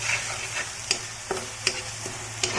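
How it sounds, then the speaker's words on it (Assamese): Cumin, salt, turmeric and coriander powder fry in a hot pan for curry leaf chicken, a steady close sizzle broken by a few sharp scrapes of stirring at irregular intervals, with no voices. "এতিয়া এইখিনি অলপ ভাজি লওঁ"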